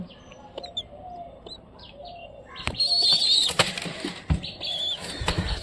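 Giribaz pigeons kept at home with their chicks flap their wings in several sharp, close bursts clustered mid-clip, with faint chirps and coop rustling in between.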